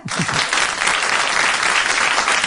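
Studio audience at a live French radio broadcast breaks into loud, sustained applause, dense clapping filling the whole stretch without a break.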